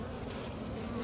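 Honeybees buzz in a dense, continuous drone throughout, close and steady, as a colony is cut out of a structure and its comb is moved into frames.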